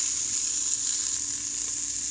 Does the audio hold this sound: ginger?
yes